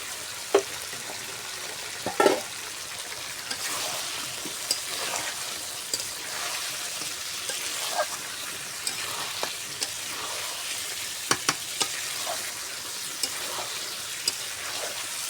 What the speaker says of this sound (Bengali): এখন আমি ভাজা আলুগুলো দিয়ে দেবো।